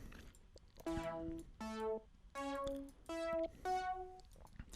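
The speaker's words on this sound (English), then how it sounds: "some saw chords here, and they sound like this." Bright sawtooth synth chords playing five separate stabs in a steady rhythm, each sustained briefly, buzzy and rich, with no other sounds.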